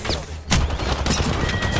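Rapid assault rifle fire in Apex Legends, a loud dense burst of shots with a sharp onset after a brief lull, sustained to the end amid busy game sound.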